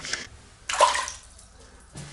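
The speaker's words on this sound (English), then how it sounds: "Back from my run, time to have my shower." A shower runs after a run, giving short bursts of hissing water spray separated by quieter gaps, close and fairly soft.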